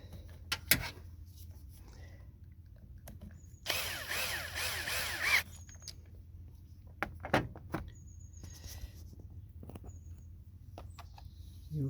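Power tool driving a screw during a vacuum turbo solenoid valve replacement, heard as a close whirring burst of about two seconds between scattered clicks and handling knocks in a quiet space.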